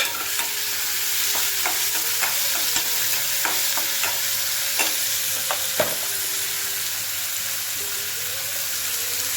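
Onion, tomato, curry leaves and green chillies stir-fry in a pan, a loud continuous sizzle with scattered scraping ticks from stirring, no voices.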